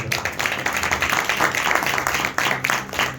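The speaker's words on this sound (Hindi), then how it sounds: "इस बहन के लिए जोरदार ताली बजाओ।" A church congregation at a Friday healing meeting claps loudly for a woman, a dense, continuous burst of applause filling the room with steady crackling hand claps.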